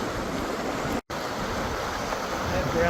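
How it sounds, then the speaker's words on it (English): Fast-moving water of Mill Creek in California rushes in a steady, loud broadband roar with no letup, close to the microphone, apart from a brief dropout. "this water's moving way too fast"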